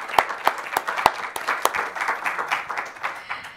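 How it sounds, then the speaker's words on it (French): Audience applause at a talk on performance and environmental stress, a few sharp nearby claps standing out at first before the clapping thins and fades. "Ça mérite quelques applaudissements."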